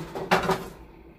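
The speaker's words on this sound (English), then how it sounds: "I have to get another pan out" A metal pan is pulled out in a home kitchen while cooking vegan fajita tacos, one clear clanking knock followed by a brief rattle, close by, then a low room hum.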